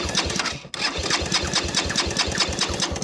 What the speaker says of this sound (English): I'm going to now throttle wide open, and I'm going to press start.